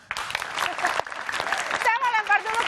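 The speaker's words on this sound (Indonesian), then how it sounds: "Oke, tepuk tangan dulu dong." Studio audience applause on an Indonesian political talk show, a burst of clapping from a crowd with voices and a tonal sound rising over it toward the end.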